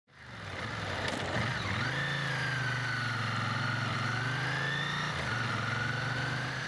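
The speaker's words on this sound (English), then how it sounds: "the air-cooled 90-degree V-twin with the desmodromic valve gear" A Ducati Monster's air-cooled 90-degree V-twin engine starts and runs steadily at a low, throbbing idle, with a brief rev partway through, close and continuous.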